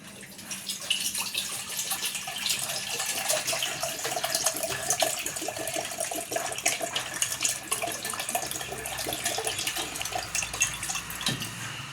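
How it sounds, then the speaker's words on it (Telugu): Water runs steadily into an empty bowl while lassi is being made, a continuous splashing pour that stays at an even level from start to finish. "ఫస్ట్ కాలి బౌల్లోకి"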